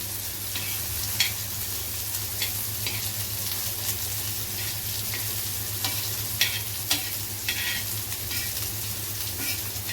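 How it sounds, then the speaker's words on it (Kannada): Paneer frying on a tawa gives off a continuous close sizzle and crackle with occasional stirring or turning clicks, steady throughout. "ಇದು ಬೇಯ ತನಕ ನೋಡಿಕೊಂಡು ನೀಟಾಗಿ ಎರಡು ಸೈಡು ಫ್ರೈ ಮಾಡ್ಕೋಬೇಕು"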